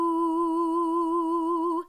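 One sustained sung note with a gentle vibrato wavering its pitch, a lone close voice holding steady for about two seconds before cutting off.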